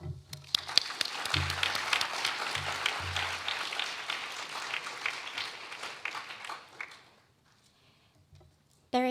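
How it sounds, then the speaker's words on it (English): An audience at a university business case competition event claps steadily for the event president for about seven seconds before the applause fades to near silence, and a brief sound follows at the very end. "Please give a round of applause"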